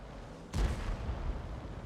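A tank cannon fires in World of Tanks, a single sharp boom near the middle followed by a rumbling decay that carries through to the end.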